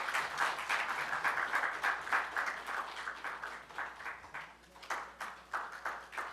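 A congregation applauds at a church pastor installation service, the clapping fairly quiet and rolling in uneven waves, fading slightly before rising again.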